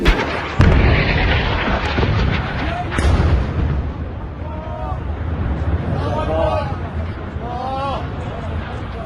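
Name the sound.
bombs exploding in Israeli bombardment of Lebanon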